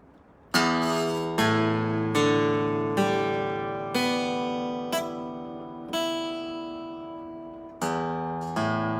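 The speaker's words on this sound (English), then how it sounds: "All right, so your guitar tuned up, all the open notes, it should sound like this if you want to strum along with me." A tuned acoustic guitar strummed across all six open strings, about seven ringing strums at a slow, even pace, each chord decaying before the next, heard alone and close.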